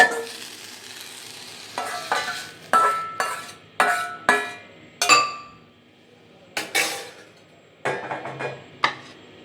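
Sautéed amla chutney mixture with ginger and green chilli being scraped out of a pan, a series of sharp, separate metal clinks and scrapes with short decays, close and fairly loud, without speech.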